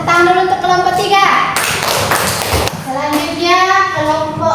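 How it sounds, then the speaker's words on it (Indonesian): A class of children in an Indonesian classroom applauds with loud, dense hand clapping for a few seconds. Children's voices are heard before and after the clapping. "Kita tepuk tangan dulu untuk kelompok 3"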